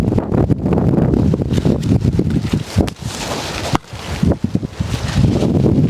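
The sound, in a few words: wind blowing through mango trees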